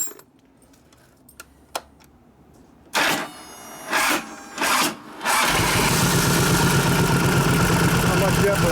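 A 1989 Harley-Davidson 93ci panhead stroker motor in a Softail cranks in a few short bursts, then catches and runs loud and steady at close range.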